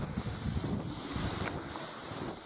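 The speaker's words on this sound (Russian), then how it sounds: "слышно, как ветер шумит" Wind blows outdoors on a winter fishing hike, a steady rushing, buffeting noise hitting the microphone at moderate level throughout, with no speech.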